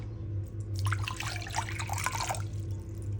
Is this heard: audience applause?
no